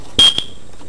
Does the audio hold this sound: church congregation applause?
no